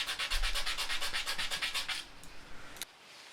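Abrasive paper sands and polishes a soft synthetic knife handle in quick, rhythmic back-and-forth strokes close by, roughly a dozen passes before stopping with a small clack.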